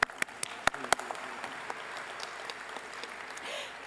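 Convention audience in a large hall breaks into applause, a few sharp early claps swelling into steady, fairly distant clapping that carries through to the end.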